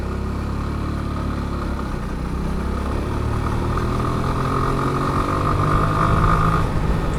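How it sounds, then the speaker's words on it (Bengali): A motorcycle engine runs continuously up close, a steady droning rumble whose pitch climbs gradually as the bike speeds up, with no talking over it. "ইয়ে বাইকের সাউন্ড তো উড়া দুরা বাড়তেছে।"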